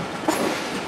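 A train pulls out of Lahore railway station on the line toward Firozwala and the Indian border, giving a steady, close rumble of rolling rail cars with faint clatter throughout.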